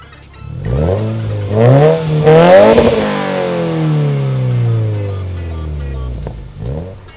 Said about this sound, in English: The Q300 is the quietest out of the three because it has the most room for the exhaust gases to expand to absorb the sound.